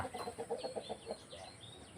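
Several young chickens, a flock of cockerels, give short soft clucks in a quick uneven series, close by and moderately quiet, with faint background hiss and no talking.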